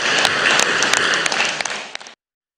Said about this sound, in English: Can we clap hands, please?